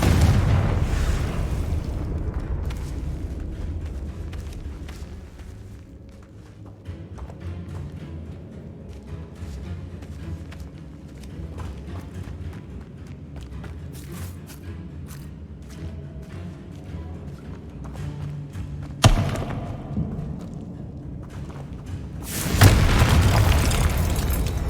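Fiery blasts from the Confringo spell in Hogwarts Legacy: a continuous rumbling battle din with a sharp burst near the end, followed by a loud, booming explosion that rolls on to the close.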